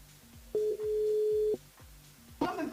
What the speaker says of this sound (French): j'attendais la sonnerie.